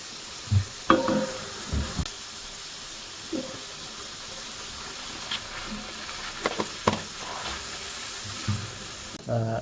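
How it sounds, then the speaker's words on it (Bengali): Shrimp sautéing in a pan with turmeric and chili powder for a coconut and green chili shrimp dish gives a low sizzle broken by scraping stirs and clinks of the spatula, with no voices. "এখন এটা একটু কষিয়ে নেব চিংড়ি মাছটা খুব বেশি কষানো যাবে না"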